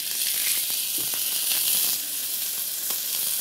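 Three pieces of meat searing in a large frying pan, giving a continuous loud sizzling hiss with small crackles and pops, close and steady, with no talk over it.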